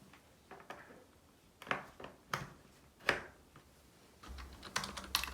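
Typing on a wired keyboard connected through a USB-C hub to a 2018 iPad Pro: a few close, sharp key clicks in short irregular bursts, ending in a quicker flurry of keystrokes, with no voices.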